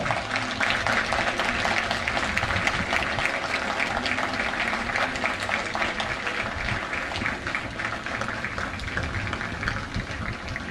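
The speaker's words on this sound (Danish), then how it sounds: "Vi klapper." Crowd applauding at an open town event in Vester Hornum, steady dense clapping filling the whole stretch at an even loudness, with a few voices mixed in.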